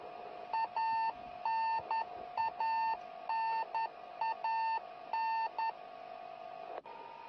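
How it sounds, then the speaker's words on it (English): A Soyuz spacecraft radio beacon beeps during descent in an irregular pattern of short and longer electronic tones over a constant hum, close and clear with no voices. "The beeping sound you hear is a radio beacon on the Soyuz spacecraft"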